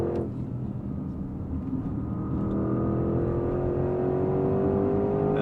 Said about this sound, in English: Of course, it will let me hold the revs all the way out to red line.